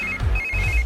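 A phone ringtone sounding in a dubbed South Indian action movie scene, a short repeating electronic trill over a low rumbling background.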